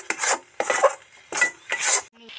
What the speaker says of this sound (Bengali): ভালো করে নেড়ে চেড়ে মিশিয়ে দেব। ধরে ধরে নাড়তে হবে